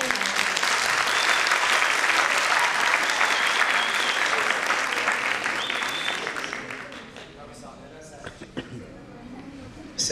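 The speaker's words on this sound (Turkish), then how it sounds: "O zaman şimdi alkışlarınız eşliğinde Ümit Erdin'i sahneye." A crowd at a talk event applauds loudly and steadily to welcome a guest onto the stage, then the clapping fades over several seconds into scattered claps, shuffling and faint voices.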